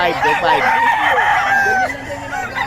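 Gamecocks for sale at a market in Bocaue crow and cluck in a loud, nearby overlapping chorus, with several birds calling at once over a busy background.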